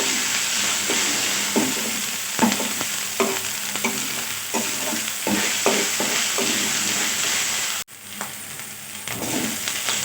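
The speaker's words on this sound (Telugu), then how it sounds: "పచ్చి వాసన పోయేంత వరకు ఫ్రై చేసుకోవాలి" Ginger garlic paste with spices fries in a pan for an aloo samosa filling: a continuous loud sizzle with repeated close spoon scrapes, and a brief dip in level near the end, with no voices.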